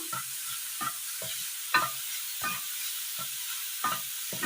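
Minced carrot fries in ghee over a low flame, a quiet sizzle broken by about eight regular stirring scrapes of a spoon against the pan, close and without talk.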